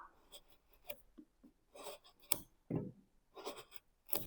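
A wood carving chisel cutting softwood against the grain, a series of short, close, dry scraping and shaving strokes with quiet pauses between them.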